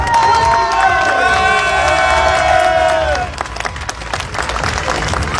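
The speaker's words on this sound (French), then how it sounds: "Un tonnerre d'applaudissements." A rally crowd at the podium of the 51st Rallye de Dieppe Normandie bursts into loud applause and cheering, with whoops and shouts over dense clapping that eases slightly near the end.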